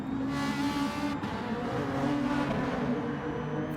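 Race cars in the Gran Turismo Sport game, at Cork in the Screw in a manufacturer series round, give a loud, continuous engine drone and rev, with no speech.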